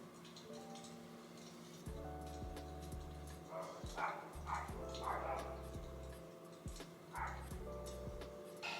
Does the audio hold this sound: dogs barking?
yes